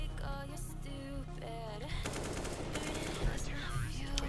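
Rapid gunfire in the video game CS:GO crackles in bursts, with loud automatic fire dominating the second half. Someone talks over the game sounds early on.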